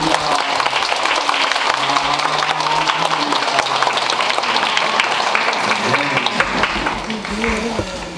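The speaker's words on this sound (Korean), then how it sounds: "뜨겁게 박수로 환영하겠습니다." Congregation in a church service applauds to welcome a newly registered member, a dense, steady wash of clapping filling the room throughout, with a voice speaking over it near the end.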